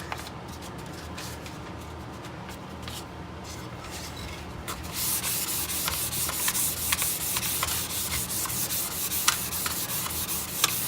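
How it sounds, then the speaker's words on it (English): Fine 400-grit sandpaper rubbing on wood by hand in quick, repeated strokes, quiet at first then a brighter, raspier scratching. "you're not really shaping with the hand sanding, you're smoothing"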